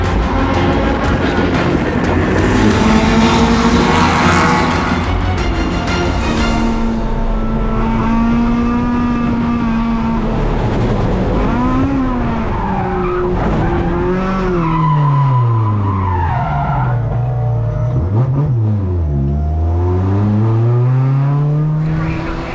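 A race car spins through a 540 at about 100 miles an hour during a circuit race with Corvettes, tires squealing loudly in long wavering screeches as the engine pitch rises and falls, close and intense throughout.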